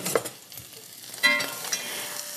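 Onions sauté in butter in a stock pot with a soft, steady sizzle. A few spoon scrapes and clinks against the pot come at uneven moments.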